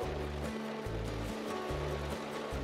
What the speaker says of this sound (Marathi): बघा काय जोरात पाऊस आलाय.